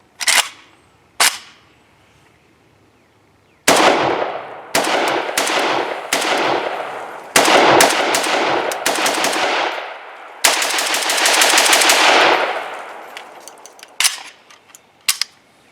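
A Romanian AES-10B AK rifle emptied at a range: two single shots, then several loud bursts of automatic fire with sharp echoing reports, the last long burst trailing off into a few scattered shots.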